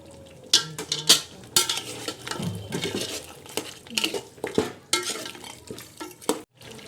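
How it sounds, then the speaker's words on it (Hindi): A spoon stirs spices and salt through mutton in a pot for Afghani-style pulao, with irregular metallic scrapes and clanks against the pan over a soft sizzle, close and without talk. "इसे भी आप अच्छी तरह से मिक्स कर लें"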